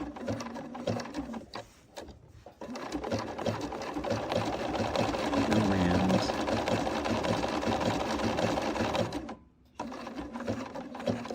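Domestic sewing machine stitching quilt fabric in a run of steady, continuous whirring, with a few short pauses where the needle stops to pivot at a corner; close and moderately loud, no talk.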